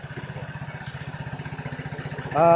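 A Vespa Sprint 150 3V scooter engine idling with a steady, fast, rough putter of pulses, close by, rising in loudness at the end as it begins to rev.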